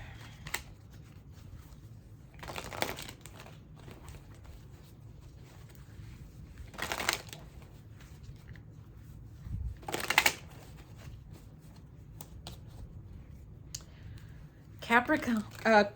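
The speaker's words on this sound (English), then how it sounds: "I'm going to get these cards ready real quick." Tarot cards being shuffled in short bursts of riffling and clicking separated by quiet pauses, close and fairly soft, with brief scattered handling noises.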